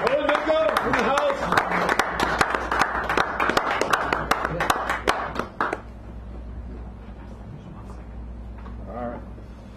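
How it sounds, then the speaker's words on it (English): An audience at a poetry hour in a San Francisco café applauds as a poet comes up to the stage, a dense burst of clapping lasting several seconds before fading to a quiet room with a brief voice. "give him a round of applause as he does that"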